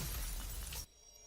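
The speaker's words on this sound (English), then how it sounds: "As the protocore cluster shatters, a distant tremor ripples through the air" Protocore cluster shattering in Love and Deepspace, a bright, dense glassy shatter lasting under a second before cutting off sharply to quiet.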